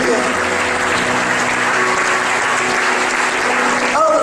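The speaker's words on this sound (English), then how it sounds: "Would you give her a hand clap?" A church congregation claps for a newly baptized woman, dense steady applause filling the space for about four seconds before a voice cuts in at the end.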